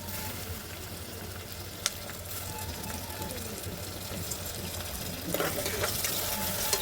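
Onions fry in a pan for chicken pulao as chopped tomato goes in, a close, continuous sizzle with a few stirring knocks and a louder burst of crackle near the end; no one speaks.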